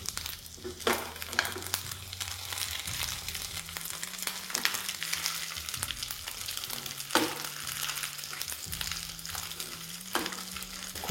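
Paneer cubes frying in a pan on low flame, a steady soft sizzle with occasional scraping and stirring clicks as the pieces are turned, close and continuous with a faint background hum.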